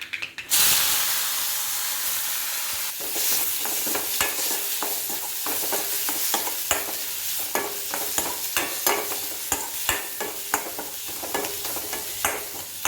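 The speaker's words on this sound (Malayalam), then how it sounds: "ഞാൻ ചെറിയ ഉള്ളിയാണ് എടുത്തിട്ടുള്ളത്. നമുക്കതും ഇഞ്ചി വെളുത്തുള്ളി പേസ്റ്റ്, പച്ചമുളക് ഇവ ചേർത്ത് കൊടുക്കാം." Shallots, ginger garlic paste and green chilli fry in hot oil for a sausage curry, giving a steady close sizzle with repeated scraping and clacking stirs and no talking.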